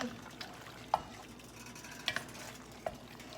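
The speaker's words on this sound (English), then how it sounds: "my arm hurts from stirring this" A spoon stirs food in a pot on the stove, giving a few scattered scrapes and light clinks against the sides over a quiet background hiss.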